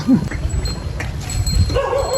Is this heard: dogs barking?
yes